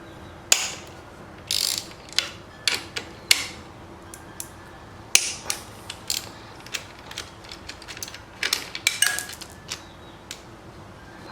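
Close, intermittent clicks and ratcheting come from removing two screws of the rear caliper guard on a 2018 Yamaha YZ125 dirt bike, scattered bursts with quiet gaps between.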